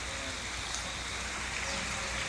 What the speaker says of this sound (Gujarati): ગાઈસ અમારા ત્યાં વરસાદ ચાલુ છે